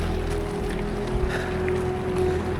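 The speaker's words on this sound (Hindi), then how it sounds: "आप मेरे इर्द गिर्द ज़रा बहते पानी की आवाज़ सुने।" A mountain stream in Sok Valley, Gilgit-Baltistan, Pakistan, rushes with a constant broad wash of flowing water, close and even, with a low rumble and no talking.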